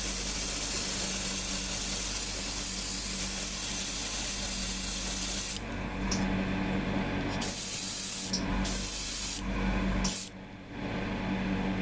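An airbrush sprays Mr. Color 33 flat black paint onto a Hasegawa 1:72 F-4EJ Phantom II model kit, a loud steady hiss broken by several short pauses and restarts near the end.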